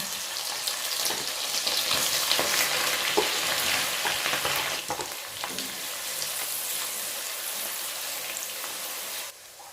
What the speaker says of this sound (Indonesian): Goreng ikan terinya.